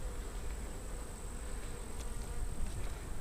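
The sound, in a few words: bees buzzing in an opened hive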